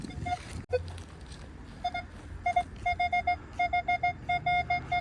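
A KAIWEETS entry-level pinpointer metal detector gives a short tone, then a run of quick, evenly spaced electronic beeps that grows more regular and steady toward the end, close and clear.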